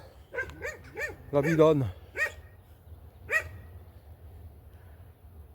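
A dog barks and yips in short bursts, several quick barks close by then a couple of isolated ones, while a person speaks briefly outdoors at a campsite in southern France.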